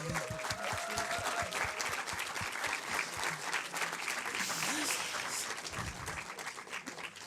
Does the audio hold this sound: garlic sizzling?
no